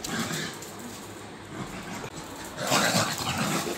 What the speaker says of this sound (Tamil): வெறி பிடிச்ச நாய்.